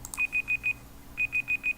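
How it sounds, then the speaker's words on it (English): A kitchen-style countdown timer beeps in two bursts of four short, evenly spaced electronic tones with a brief pause between, fairly close and clear over a quiet room. "Oh, stupid timer."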